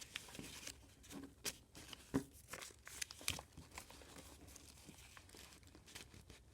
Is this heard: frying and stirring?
no